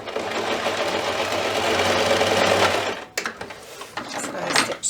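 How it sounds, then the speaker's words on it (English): Sewing machine stitching straight across a quilt-as-you-go table runner, a steady close whir for about three seconds, then stopping into scattered fabric handling rustles. "Just going to stitch straight across."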